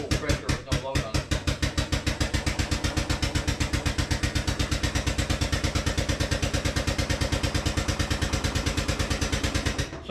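An air compressor pumps at full pressure with no load, a loud, close, rapid mechanical thumping in an even rhythm that holds steady throughout.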